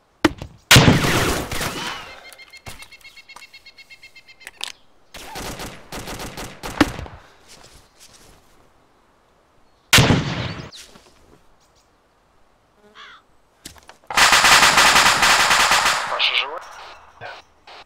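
Machine gun fire in the combat game ArmA 2, coming as loud sharp bursts of automatic shots with quiet gaps between volleys, one long sustained burst near the end, and faint other noises between.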